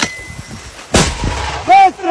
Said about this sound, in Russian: Одну мину, огонь!